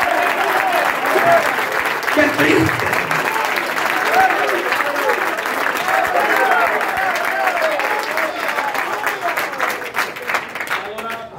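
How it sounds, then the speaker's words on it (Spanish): Sustained applause from a church congregation during a live sermon, dense and steady for about eleven seconds, with a brief voice speaking over the clapping. "Oiga, oiga esos aplausos, hermano."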